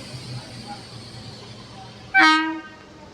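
A freight locomotive at Dornakal Junction sounds one short, loud horn blast late in the clip, cutting sharply above a low steady rumble of the moving train.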